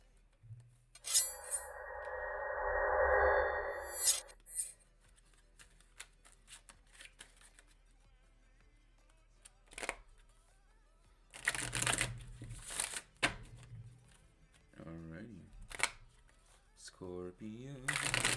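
Tarot cards are riffled and shuffled in a couple of bursts, with rustling and soft taps, while people talk intermittently in between.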